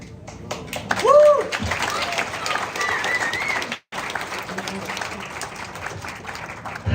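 A crowd at a rally supporting Israel and Jewish students applauds in a sustained wash of clapping with a few cheers mixed in, briefly dropping out near the middle before resuming.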